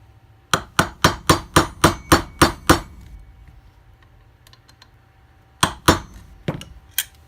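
Hammer blows strike a block of wood during an AR-15 upper receiver build: eight sharp, evenly spaced raps in quick succession, a pause, then a few scattered hits, close and loud in a quiet room.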